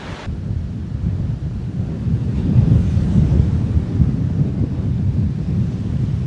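Strong wind roars and buffets the microphone on a rough, freezing day at the Danish coast, a dense, steady low rumble that swells slightly midway, with no voices.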